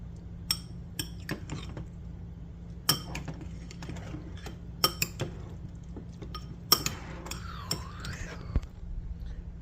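A spoon stirs Spanish mackerel ceviche in a bowl, giving sharp scattered clinks and soft wet scrapes against a quiet low hum, with a faint voice murmuring near the end.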